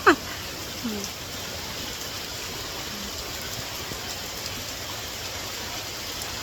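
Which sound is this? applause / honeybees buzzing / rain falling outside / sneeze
rain falling outside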